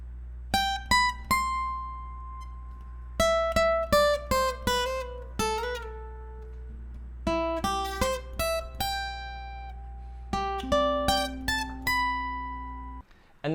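Electric guitar plays the solo from a song, a run of clear, ringing picked notes and bends in bursts, played alone and close with short pauses between phrases.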